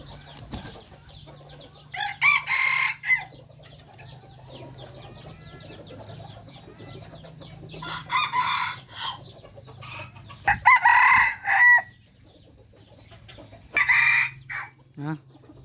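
Rooster crowing at a Lao rooster farm with mixed-breed birds, several loud crows at intervals, between them softer clucks and a low steady hum of the farmyard.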